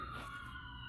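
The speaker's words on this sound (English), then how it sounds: "don't mind the sirens. I live next to the fire department" A fire department siren wails steadily from nearby, a sustained rising and falling tone heard over low background rumble, with no speech.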